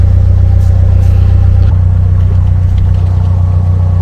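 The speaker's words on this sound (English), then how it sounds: "One boat is coming now." An approaching canal boat's engine drones loudly and continuously at Bratch Locks, Wolverhampton, close by, with a faint rattle over the deep rumble and no talking.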